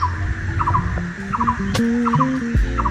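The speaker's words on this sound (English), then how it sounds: "A very beautiful bird is singing something." Birds call in short repeated chirps and trills over a busy outdoor background at a university hostel in Pakistan, with a low rumble underneath and a brief sharp click midway.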